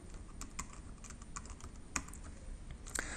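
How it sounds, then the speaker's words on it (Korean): Someone types on a computer keyboard, entering a function name in software: quiet, close, irregular keystrokes clicking in a steady stream, with a few sharper taps and no talk. "타이핑을 직접 해보겠습니다"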